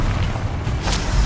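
Bombarda and Confringo spell blasts from the video game Hogwarts Legacy, a loud, sustained booming rumble with a brighter burst near the end, no talking.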